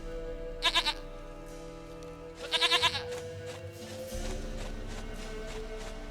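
Goat bleats in The Witcher 3 video game, two short wavering bleats a couple of seconds apart, close and clear over a low steady ambient drone with faint background tones.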